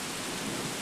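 Heavy rain pouring down during a thunderstorm in a state park, a loud, dense, unbroken hiss with a low rumble beneath it, heard briefly and alone.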